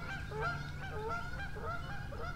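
Geese honk repeatedly at close range near a nest in a duck blind on the James River, harsh nasal calls overlapping in an irregular rhythm over a low steady background hum.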